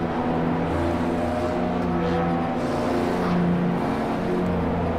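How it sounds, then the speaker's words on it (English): McLaren F1 car in Project Cars 2 holding a steady, loud engine drone with shifting harmonic tones as it accelerates, continuous and close with no talk. "This car accelerates pretty bad."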